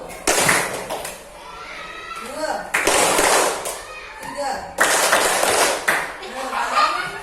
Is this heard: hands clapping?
yes